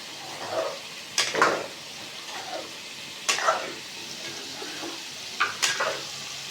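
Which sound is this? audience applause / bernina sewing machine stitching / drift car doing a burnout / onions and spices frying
onions and spices frying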